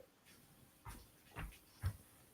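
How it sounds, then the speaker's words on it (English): A dog barks three times, at a distance in the background, with each short woof spaced about half a second apart over a quiet room. "I hear a dog barking in the background"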